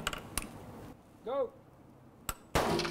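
A handgun shot from an FK BRNO pistol with a 6-inch barrel, firing a spoon-tip bullet at an armor target 100 yards away: sharp close cracks, one brief rising voice cry between them, then a final loud burst.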